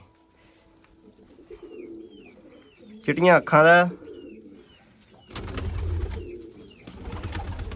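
Young pigeons, one a white-eyed Shakha breed chick among four newly bought, coo in a loud burst of rising calls near the middle, with someone talking faintly before and other birds and rustling noise after.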